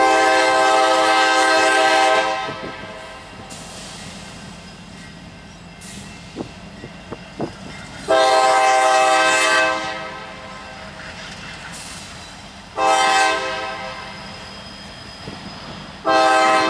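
A train rolls past with repeated loud horn blasts in long bursts, the steady rumble of wheels and cars continuing between them, near and prominent on a rail line with an eastbound signal.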